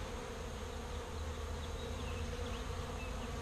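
Honey bees swarm and buzz around a hive top feeder in early summer, a steady, dense drone that stays close and even throughout with no voices.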